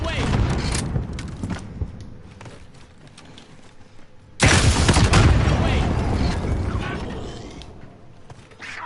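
A rocket launcher fires and the rocket explodes in the video game Warzone. A loud burst at the start fades out, then a big booming blast erupts and rumbles for several seconds, with game sounds around it.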